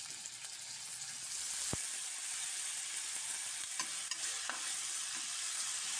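Steady, close sizzling of chopped onions frying in hot oil, with occasional stirring scrapes and a sharp tap against the pan.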